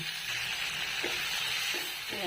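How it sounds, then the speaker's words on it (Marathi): Spice masala with onion and coriander leaves roasting in a pan for a Maharashtrian curry paste, giving a steady, close sizzling hiss with a few soft scrapes of stirring and no talking. "आता हे सगळा मसाला आपल्याला चांगला भाजून घ्यायचा"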